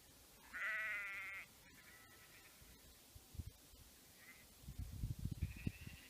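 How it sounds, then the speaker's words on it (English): A sheep bleats clearly and nearby for about a second, with fainter bleats later over quiet outdoor ambience and some low rumbling thumps toward the end. "just the sound of sheep."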